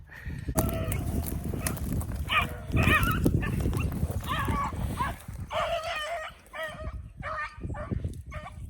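Hunting dogs working through weeds outdoors, with close dog barks, yelps and whimpers mixed with rustling, thumps and movement over about nine seconds and no clear talk.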